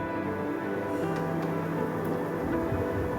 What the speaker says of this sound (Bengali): আর দিলাম আলুগুলো খুব ভালো মতন ভেজে নেব